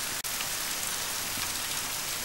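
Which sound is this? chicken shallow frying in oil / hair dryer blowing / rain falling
rain falling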